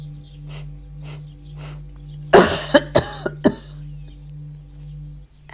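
Several sharp, forceful coughs in quick succession after a full deep inhale, as part of a lung-clearing breathing exercise; loud and close, standing out alone against quiet breathing and a low steady hum.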